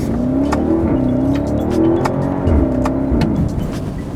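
The engine of a 2019 BMW X7 xDrive50i SUV revs hard and close, pitch rising and dipping through gear changes, a loud continuous roar with sharp clicks overhead.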